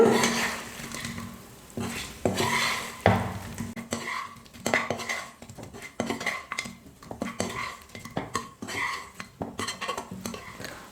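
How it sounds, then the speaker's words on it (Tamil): A spoon stirs boiled potatoes into masala in a metal pan. Irregular scraping and clinking strokes come close and fairly loud, over a faint background sizzle, with no talking. "உருளைக்கிழங்கை சேர்த்துட்டு மசாலோட சேர்த்து நல்லா மிக்ஸ் பண்ணி விட்டுக்கோங்க"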